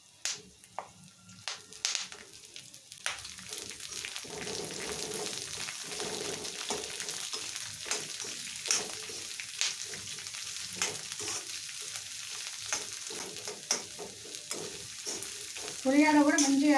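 Onions frying in oil with peanuts for an ivy gourd fry, a steady close sizzle broken by frequent stirring clatters, growing louder near the end.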